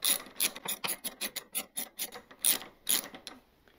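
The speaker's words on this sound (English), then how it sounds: "This will take a 14 millimeter deep well socket. You can just lefty-loosey this sucker all the way off of here." A ratchet wrench with a 14 mm deep well socket loosens the rear brake drum nut on a 1970 Honda CB/CL 350 motorcycle: a close, rhythmic run of about a dozen sharp clicking strokes that trails off at the end.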